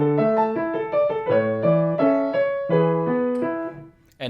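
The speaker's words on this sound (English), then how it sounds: "Let's play this piece without the sustain pedal." Piano notes played without the sustain pedal in detached chords and a simple melody, each note stopping short with gaps between them, clear and close.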